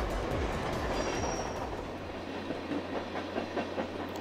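A train running in the video game 428, a steady rumble of rolling rail wheels with rhythmic clickety-clack beats and a low hum, loud and continuous.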